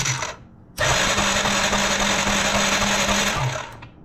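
The 2005 Yamaha TTR90 engine, sitting unused for five years, is cranked over once for a spark test. It gives a loud, close, whirring churn lasting about three seconds, with no talk.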